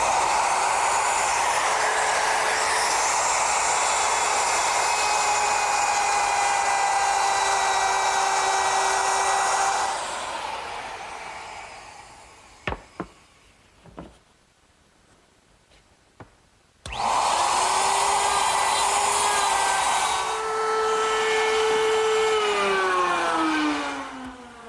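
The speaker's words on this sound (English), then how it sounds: "I've also placed a 3/4 inch dovetailing bit in the router and set the depth so that it's exactly even with the dado I've already cut." Router fitted with a 3/4 inch dovetail bit cutting wood in a woodworking shop: a loud, close, high whine for about ten seconds, a short quiet gap with a few knocks, then a second whining cut that winds down.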